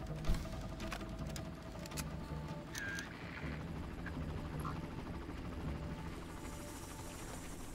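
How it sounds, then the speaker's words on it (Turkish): A helicopter circles overhead in the 2004 video game Far Cry, a steady whirring drone with rhythmic rotor chop under scattered game effects and clicks, with no talking. "Helikopter geziniyor vallahi tepede."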